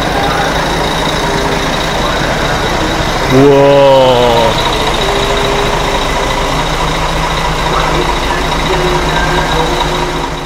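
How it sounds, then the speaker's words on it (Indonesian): The engine of a Harapan Indah intercity bus on the Medan–Banda Aceh route idles to keep the air conditioning running. It gives a loud, steady, close rumble that holds for the whole stretch, and one voice briefly exclaims partway through. "Dan kita dengar suara mesinnya ya."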